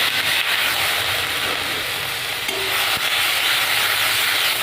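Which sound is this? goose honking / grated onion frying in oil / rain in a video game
grated onion frying in oil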